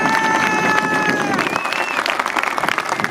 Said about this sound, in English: I think you all deserve a round of applause, so please let's do that